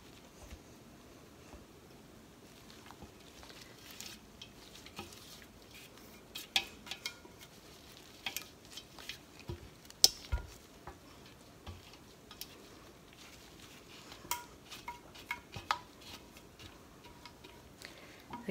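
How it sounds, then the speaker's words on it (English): A utensil scrapes soap mixture down the inside of a pot, giving scattered light clicks and scrapes that grow more frequent toward the middle and end, close but fairly quiet, with no talking. "And then I'm going to scrape this down."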